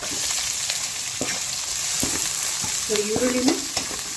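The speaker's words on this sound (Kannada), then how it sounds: "ಇದು ಜಾಸ್ತಿ ಫ್ರೈ ಆಗಬಾರ್ದು, ಲೈಟಾಗಿ ಒಂದು ಸ್ವಲ್ಪ ಲೈಟಾಗಿ ಫ್ರೈ ಆಗೋದು ಸಾಕು." Chopped onions lightly frying in a pan for street-style Gobi Manchurian, a steady close sizzle with a few clicks of a spatula stirring, no talking.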